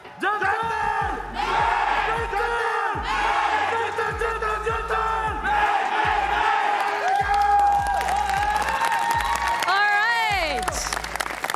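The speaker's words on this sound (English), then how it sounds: "You're braver than me to go for a crowd chant there." Esports arena crowd at a VCT EMEA Valorant match chanting in loud rhythmic unison, with repeated shouted beats and cheering that fill the whole stretch, swelling near the end.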